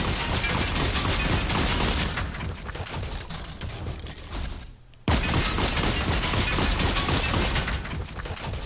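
A mech firing its shotgun in Fortnite Creative, with loud, dense bursts of blasts, a brief quieter lull partway through, then another abrupt volley.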